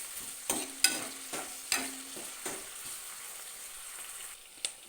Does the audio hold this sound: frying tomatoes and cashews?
yes